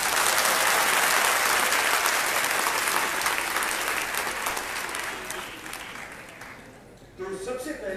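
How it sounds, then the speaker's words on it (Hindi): An audience at a guest lecture on work ethics applauds, with dense, loud clapping at first that gradually thins and fades before a voice resumes at the end. "तालियां बजा दो."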